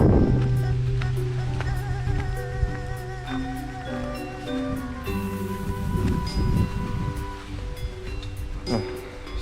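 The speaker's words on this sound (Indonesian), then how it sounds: "Nah, sungai di sini lumayan besar ya, dan airnya juga lumayan deras." A large, fast-flowing river at the far end of a road through plantations and houses in an Aceh village, heard as a steady, close rush of water under layered tonal background music.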